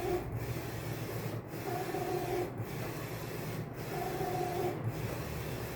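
A large-format J16 printer prints a canvas with light magenta and light cyan inks, giving a steady mechanical whir broken by a regular swish of the print carriage about once a second, with no voices.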